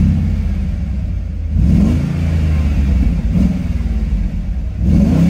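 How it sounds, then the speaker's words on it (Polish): A 20-year-old Audi RS V8 biturbo estate revving its engine nearby, a deep rumbling idle rising into two or three loud throttle blips with clattering exhaust burble. "Posłuchajmy jeszcze silnika."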